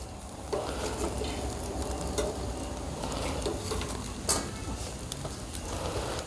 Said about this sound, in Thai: เอามาย่างก่อนเนาะ นี่ ย่างให้มันสุกครับ